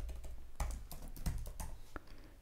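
Rapid bursts of keystrokes on a computer keyboard, close and fairly loud with an irregular rhythm, heard alone with no talking.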